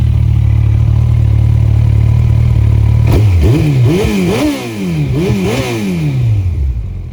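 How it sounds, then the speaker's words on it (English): A Kawasaki ZX14R motorcycle engine that has just been rebuilt idles loudly and steadily, then is revved hard several times in quick rising and falling surges before settling back down. "Let's give it a good rev this time."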